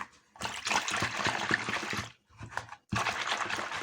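Liquid dish soap poured into water in small amounts, giving a soft, close trickling splash in two bursts with a brief pause between, no talking.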